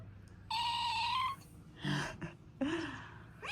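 A street cat yowling in drawn-out, wavering cries, three loud calls separated by short pauses, close by and alone.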